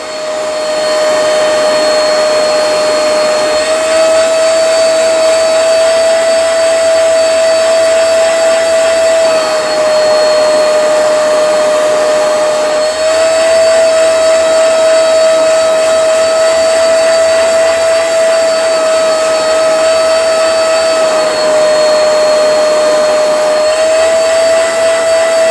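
A Hoover portable spot cleaner runs on carpet with a loud, constant motor drone and a steady high whine that dips and rises slightly as it passes back and forth, close up, with no voices.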